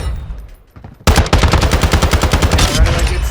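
A Bushmaster ACR fires full auto in Call of Duty MWII: after a short quiet lead-in, a loud, close, sustained rapid burst of evenly spaced shots runs through to the end.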